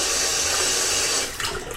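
Water running from a newly installed single handle kitchen faucet, a loud steady hissing stream that tapers and turns splashier near the end.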